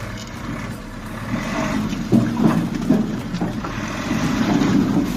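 A dump truck loaded with firewood rumbles as it strains to pull away, a low steady engine drone rising slightly in loudness over about five seconds with no talk.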